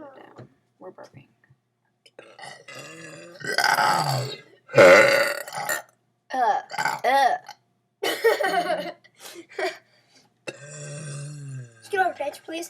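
A series of short and longer burps from children at home, close and moderately loud, mixed with chatter and giggling between bursts.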